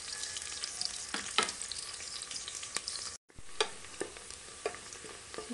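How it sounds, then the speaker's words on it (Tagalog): Garlic and red onion sautéing in a hot pan, a close, steady sizzle and crackle with occasional stirring scrapes, quiet overall and briefly cut out near the middle, no talking. "igisa natin hanggang ma-brown yung ating garlic guys para maging mabango"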